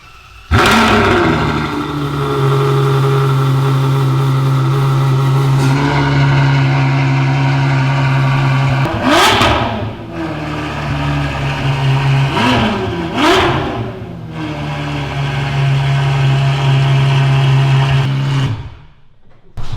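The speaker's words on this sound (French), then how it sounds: "On va démarrer la voiture pour voir ses réactions." A Ferrari engine fires up and idles loud and close, then is blipped into several sharp revs that rise and fall before it settles and cuts off, no talking.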